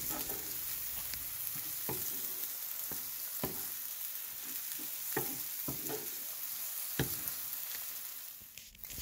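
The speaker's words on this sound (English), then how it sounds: "I am going to mix this up" Eggs with shredded cheddar cheese sizzle gently in a pan, with a steady hiss punctuated by scattered scraping taps of a spatula stirring them.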